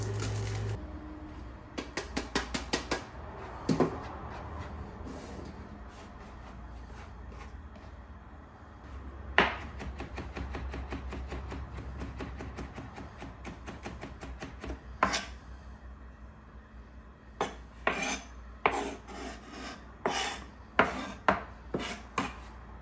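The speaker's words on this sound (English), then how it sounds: "first things first, garlic. I'm gonna get this diced up" Garlic is diced with a knife on a cutting board: scattered scrapes and taps at first, then bursts of rapid rhythmic chopping clicks near the end, close and crisp against quiet kitchen hum.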